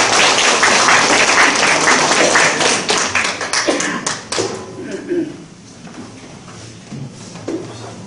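Audience applause at a Korean civic campaign ceremony greets a speaker coming forward, loud, dense clapping that fades after about four seconds into scattered claps and room noise with a voice.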